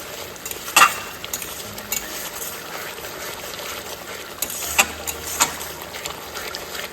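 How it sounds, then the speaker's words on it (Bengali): Spice paste for a Bengali fish curry stirred and fried in a home kitchen pan, a low steady sizzle with scattered sharp scrapes and clinks of a utensil against the pan. "এদিকে মাছের ঝোলের মশলাটা কষানোর কাজ চলছে।"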